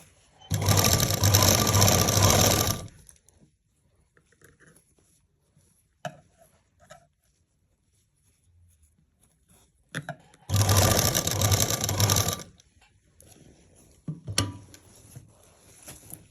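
A sewing machine stitches a seam on a lined kameez in two loud, close bursts of rapid whirring, separated by quiet gaps with faint handling clicks and rustles of fabric.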